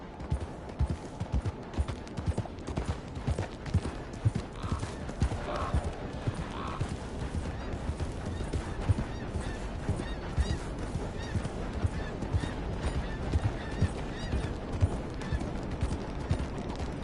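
Horse hooves gallop in Red Dead Redemption 2, a dense continuous pounding rhythm mixed with game ambience, with some honking bird calls and brief voices over it.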